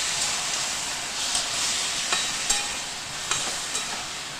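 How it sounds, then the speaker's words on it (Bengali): Boiled taro leaves (kochu shak) being stir-fried in a pan, giving a steady hiss and sizzle with a few soft scrapes and knocks as the greens are stirred. "এবার ভালো করে নেড়ে চেড়ে কচুর শাকটাকে টানিয়ে একদম শুকনো শুকনো করে নিতে হবে।"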